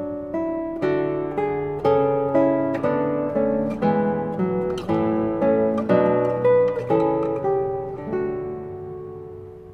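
Three contrapuntal lines of a Bach fugue played together on classical guitar, with repeated plucked attacks moving through overlapping voices at a steady tempo, clear and close with no talking.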